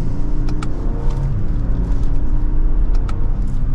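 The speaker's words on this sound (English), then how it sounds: "So we're driving around a 6-figure Lexus." A 2023 Lexus LX600 Luxury SUV pulls hard from second gear, its engine drone rising steadily and close under cabin road rumble, with a few faint clicks along the way.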